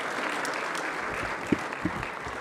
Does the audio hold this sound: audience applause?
yes